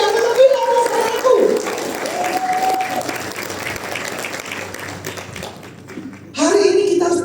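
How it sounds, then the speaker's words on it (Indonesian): An audience at a motivational forum in Surabaya, Indonesia, applauds in a sustained, dense wash of clapping, while a speaker's voice is heard over it at the start and end. "Tepuk tangan yang serius, saudaraku."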